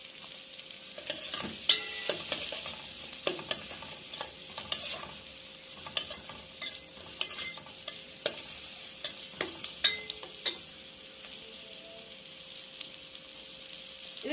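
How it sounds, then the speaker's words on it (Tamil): Finely chopped onions fry in a pan toward golden brown, a constant close sizzle broken by frequent sharp stirring scrapes and clacks of a spoon, with no voices. "நல்லா இந்த வெங்காயம் நல்லா கோல்டன் ஃப்ரை ஆகணுங்க"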